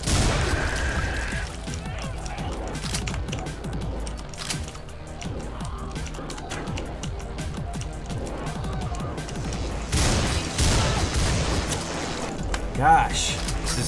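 Gunfire in the PC game Butcher: a busy stretch of shots and mechanical clatter with heavy low thuds, running steadily at fairly loud level, with a louder burst near the end.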